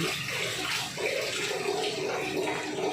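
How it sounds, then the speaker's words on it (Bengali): Banana flowers going into hot turmeric-tinted water in a cooking pot, giving a steady, close watery rush and splashing that fills the whole stretch, with no talking. "এবার আমি কলার মোচাগুলো ওই জলে দিয়ে দিচ্ছি"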